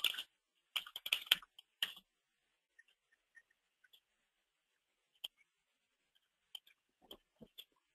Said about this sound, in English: if you just type in Chrome extension store